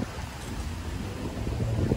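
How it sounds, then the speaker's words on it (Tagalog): Strong wind buffets the microphone outdoors in South Korea in autumn, in a steady, loud roar with low rumbling gusts throughout, and no voices. "Lakas po talaga ng hangin"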